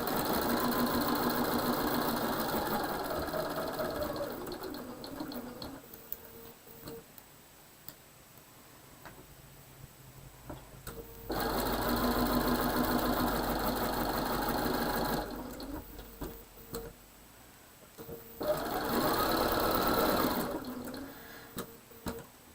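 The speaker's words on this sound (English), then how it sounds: "now I can sew that and hopefully get a good result at the end" A sewing machine stitches a quilt block in three long runs of steady whirring stitches, close and loud, with quieter pauses in between and no speech.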